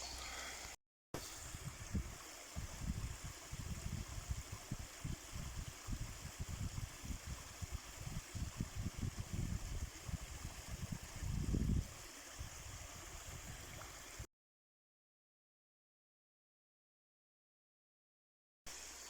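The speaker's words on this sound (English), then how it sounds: "I'll take you for a little closer look for this waterfall" Small waterfall in the UK countryside, a steady rushing wash of water heard close by, briefly cut at the start, with rustling movement over it before the sound drops out near the end.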